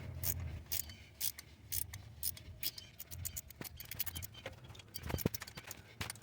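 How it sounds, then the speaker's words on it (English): Ratchet wrench clicking in quick irregular bursts while turning a thermostat housing stud on a Toyota/Scion engine, close and fairly quiet with scraping between clicks. "the ratcheting part still works perfectly fine"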